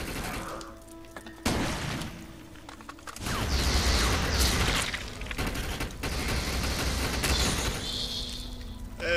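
Gunfire and explosive booms in the video game Defiance, loud and dense bursts of shooting mixed with crashing, shattering impacts during a fight against hellbug creatures, with no talk.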